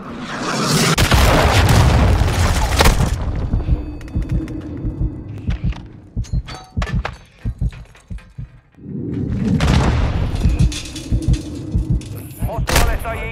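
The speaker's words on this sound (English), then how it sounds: "Hostile cruise missile launched." Cruise missile strikes in a Call of Duty Modern Warfare 2 free-for-all match: two long, loud booming blasts with deep rolling rumble, separated by a stretch of sharp gunshots and impacts, all close and heavy.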